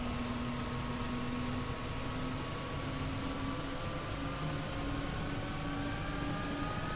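Mi-8MTV2 helicopter turbine engines in the DCS flight simulator, a loud continuous whine and roar with steady tonal hum as the throttle is rolled up.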